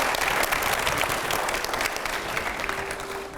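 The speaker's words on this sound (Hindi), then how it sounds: "लेकिन इस राउंड की तरफ बढ़े, थोड़ी जोरदार तालियों के साथ में" An audience breaks into loud, steady applause, a dense wash of many hands clapping together that fills the whole short stretch with no talk over it.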